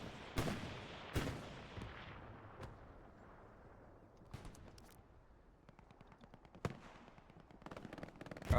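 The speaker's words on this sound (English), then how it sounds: "Rocket going off" A rocket goes off during a video game battle, one of several sharp, loud blasts and cracks scattered over a low rumble of distant gunfire that thickens toward the end.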